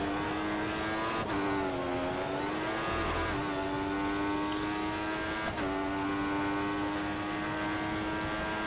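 An F1 race car engine in the F1 2014 video game, during a British Grand Prix, screams at high revs with the pitch rising and falling through gear shifts, loud and continuous with wheel spin, no voices.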